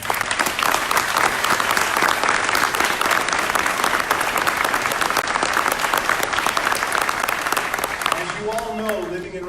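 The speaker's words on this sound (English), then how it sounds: "they deserve a big round of applause" An audience at a ribbon-cutting ceremony for the grand opening of the Golisano Autism Center applauds the project team, dense sustained clapping for several seconds that fades as a voice resumes speaking.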